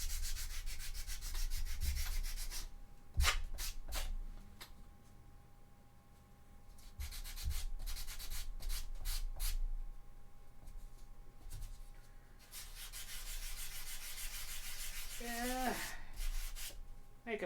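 Sanding on a cosplay armor piece, flattening a domed surface: close rasping strokes in irregular bursts with brief pauses, fairly quiet overall.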